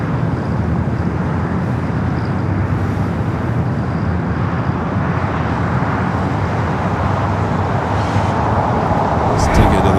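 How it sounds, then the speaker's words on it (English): Emirates Airbus A380 rolling down runway 24 left at Los Angeles LAX for takeoff, a steady, loud broadband jet roar that holds constant throughout with no pauses. "Emirates heading back to Dubai, now rolling down to 24 left."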